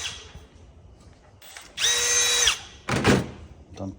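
A Milwaukee power drill spins up briefly against a carburetor from a Polaris 90, with a short whine followed by a second harsh burst, close and fairly loud amid quiet shop noise.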